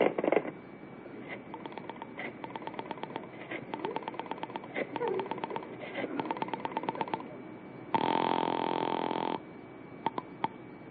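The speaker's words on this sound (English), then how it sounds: "Dial Ulrich 8900" Rotary telephone being dialed on a 1954 radio comedy show, a run of rapid clicking pulses in short bursts, followed by a steady buzzing tone, with brief voices between.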